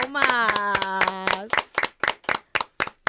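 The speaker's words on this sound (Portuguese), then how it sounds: "Uma salva de palmas!" A small audience claps for Marcos Scali. The clapping is loud and close, first mixed with a cheering voice, then thinning into a few slow, evenly spaced claps.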